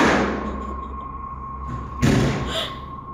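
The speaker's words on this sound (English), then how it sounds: "he turns to find the door from the other room has slammed shut again" A door in another room of a house slams shut with a single dull thud about two seconds in, following a steady low hum, fairly close and with no voices.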